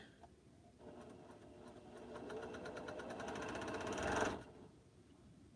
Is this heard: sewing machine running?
yes